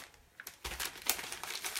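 Paper wrapping is peeled and crinkled off a partly defrosted frozen meal, a short run of close, dry crackling rustles that starts softly and grows busier toward the end.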